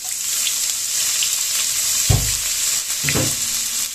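Cut potatoes hit a hot pan for chow mein, giving a steady sizzling fry with two louder bursts of crackle as more pieces drop in, close and alone without talk.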